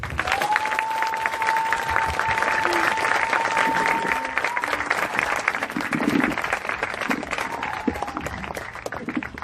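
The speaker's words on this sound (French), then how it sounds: "Est-ce qu'on peut acclamer pour Jésus?" A church congregation at a crusade in Ebolowa applauds and cheers for Jesus, sustained loud clapping from a large crowd with scattered shouts and a high held whistle or cry rising above.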